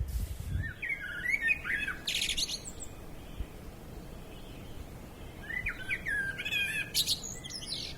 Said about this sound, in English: to the sound of War Blackbird